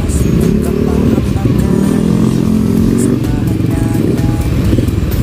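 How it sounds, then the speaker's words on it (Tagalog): Motorcycles rumbling and revving in congested Manila street traffic, engines droning loudly and continuously nearby with clattering mixed in. "ang mga motorsiklo talaga ay maobligang gumilid-gilid para makalagpas tayo sa traffic"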